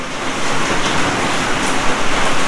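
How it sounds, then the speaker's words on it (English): Heavy rain pouring during a hurricane in Christmas, Florida, a loud dense continuous hiss with a low rumble underneath, steady throughout with no voices. "It's raining like crazy."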